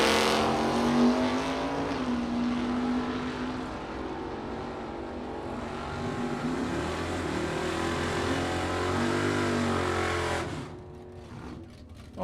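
A '70 Javelin and a '71 Chevelle with a 406 small block launch side by side at a drag strip, a loud sustained engine roar that climbs through gears and holds steady before fading abruptly near the end.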